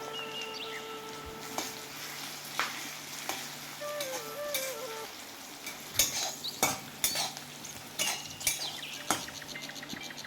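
Vegetables sizzle in a pan with Kashmiri chilli powder, a soft steady frying hiss punctuated by repeated metal utensil scrapes and clinks, with a faint chirping tone in the background early on.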